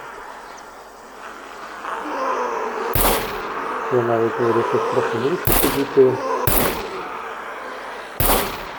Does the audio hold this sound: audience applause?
no